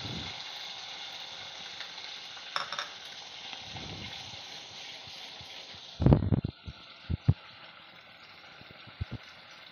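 Onion-coconut masala fries in oil in a pan for a Nagpuri-style curry, a steady sizzle broken by a burst of scraping, clattering stirring strokes partway through, then scattered spoon knocks against the pan.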